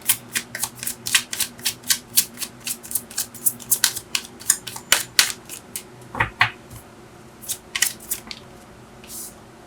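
Tarot cards riffled and shuffled by hand in a long run of crisp, rapid flicks and snaps, close and fairly loud, with brief pauses and a few slaps of the deck near the end.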